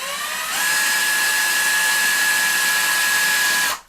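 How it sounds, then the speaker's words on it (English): A power drill whines loudly and steadily for a few seconds after a brief spin-up while drilling into a wall to fit a TRX wall bracket, then cuts off abruptly. "just give the drill a little tap"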